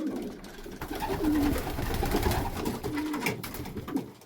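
White homing pigeons feed in a new loft, giving off soft cooing and a steady busy rustle and pecking close by, with a few brief coos standing out.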